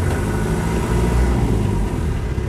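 A Land Rover 110 soft top, an ex-military vehicle with the original 2.5 litre diesel and 170,000 km, idles with a deep, steady rumble that stays close and loud throughout, with no talking.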